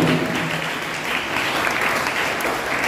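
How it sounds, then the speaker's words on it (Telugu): A church congregation at a Holy Mass in Proddatur breaks into steady, dense applause, loud and continuous for three seconds with no break. "చప్పట్లు కొట్టడం"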